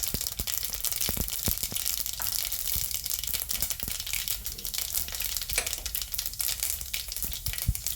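Mustard seeds and fenugreek pop and sizzle in hot coconut oil for a beetroot and dates pickle, giving a steady, close frying hiss dotted with sharp crackles throughout.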